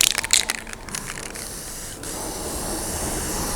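Matte clear coat sprayed from an aerosol can over gun-blued steel, a steady close hiss that starts after a few short clicks and bursts and holds evenly to the end, with no talking.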